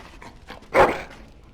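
A dog in the fantasy role-playing game Dragon Age Origins gives a single short bark, close and fairly loud, with a quiet lead-in of low panting or snuffling.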